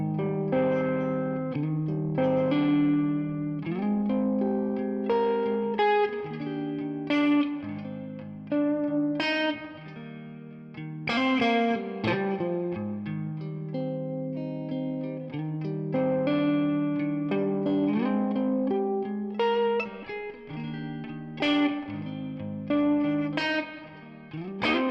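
Clean electric guitar in neck split pickup position, a Strandberg, plays a clear, bright melodic phrase with chords and single notes, steady and close, with no talking.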